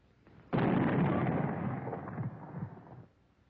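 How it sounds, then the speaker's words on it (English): A World War II-era anti-tank rifle fitted with a recoil reducer fires once, a single loud, booming blast that rolls on for about two and a half seconds before cutting off, with no talk. "A strong buffer spring inside this cylinder absorbs further recoil as the barrel slides backward when the rifle is fired."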